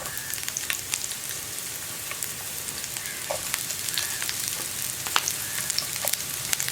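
Onions sautéing in a pan with ginger and garlic make a soft, continuous sizzle and hiss with occasional light ticks and pops, fairly close and even throughout.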